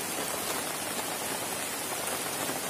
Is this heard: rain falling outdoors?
yes